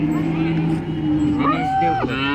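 A cow that calved the day before moos loudly and close by at a cattle market, one long drawn-out call with rising and falling pitch over a low steady hum.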